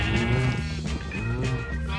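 Minecraft sheep bleating, several wavering bleats in close succession, loud and near, with game background sound and no talk.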